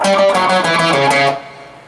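A distorted electric guitar plays a short blues riff of repeated paired notes, loud and close, then the last note rings out and fades.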